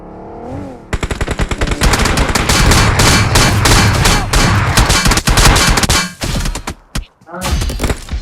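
Rapid automatic gunfire in a shooter video game, near and loud, firing in sustained bursts with metallic clangs and brief pauses near the end.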